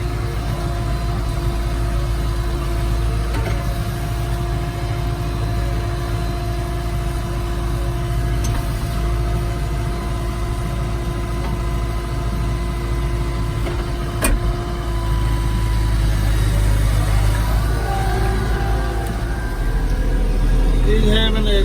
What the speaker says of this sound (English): There's my tractor right over there. Two-wheel drive.